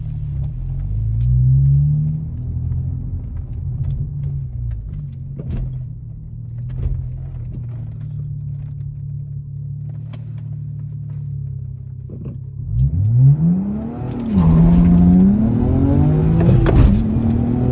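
A BMW 335i xDrive fitted with catless downpipes on a quarter-mile drag pass, its engine droning steadily, then surging loudly near the end as revs climb and sweep, with a rising roar and some rumble.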